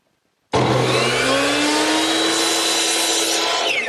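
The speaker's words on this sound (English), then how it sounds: "First thing I want to do is knock off the corners. So over here at my miter box, I've turned it to 45 degrees" A miter saw set to 45 degrees bites into an oak board to knock off a corner, starting abruptly after a short silence and then whining loudly and steadily as the blade cuts through the wood.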